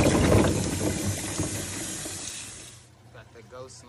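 Tap water pours over aquarium carbon in a strainer, a loud, close rushing splash that fades after a few seconds into quieter trickling and faint background sounds.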